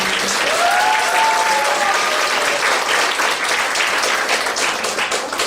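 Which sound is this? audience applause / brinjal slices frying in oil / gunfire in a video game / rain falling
audience applause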